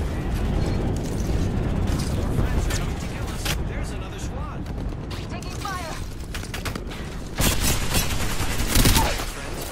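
Video game firefight with a squad under attack: dense bursts of gunfire and impacts run continuously for the whole stretch, loud and close, with sharper heavier volleys near the end and game voices talking throughout.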